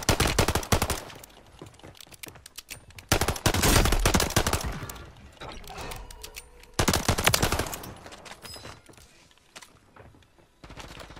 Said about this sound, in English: I knew they were gonna start shooting from the roof.